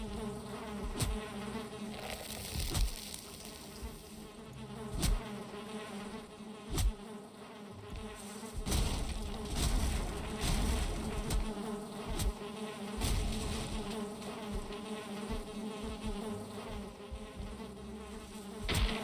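Bees swarm around a beehive in the Valheim video game, a steady insect drone that runs through the whole stretch, overlaid by scattered clicks and thuds from gameplay with no speech.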